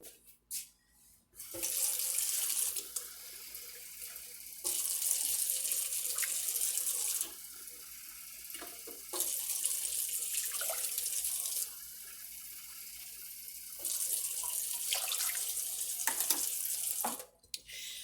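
Water runs from a kitchen tap in several bursts, switched on and off, splashing steadily into a measuring cup or container with short quiet gaps between.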